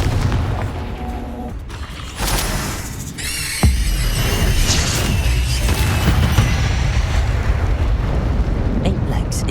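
Confringo fire spell blasts in Hogwarts Legacy, a burst of loud explosive booms and crackling impacts, followed by sustained dense rumbling combat noise with a sharp hit midway.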